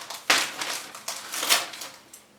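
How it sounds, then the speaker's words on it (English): Paper rustles and crunches in uneven bursts as scissors cut along a paper sleeve wrapping an orchid, close and moderately loud, with brief pauses between strokes. "with any luck I can just run the scissors up"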